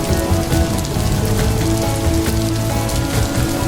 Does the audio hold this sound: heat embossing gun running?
no